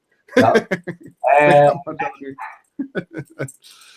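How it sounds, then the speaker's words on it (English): A dog barks in a single short burst amid close, clear conversation, the brief yelp landing between spoken phrases. "I got my dog."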